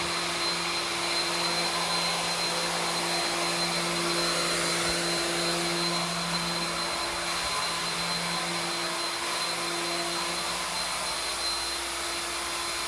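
Electric pump draining an Endless Pool, its hose run down to the bottom, giving a steady, loud motor whine with constant broadband hiss and tonal hum, unbroken and nearby with no talking.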